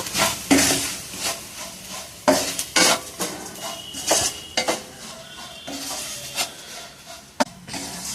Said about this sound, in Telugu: తయారు చేసిన కారం కూడా వేసుకుందామండి ఫ్రెండ్స్ ఇదంతా తిప్పుకుందాం మనం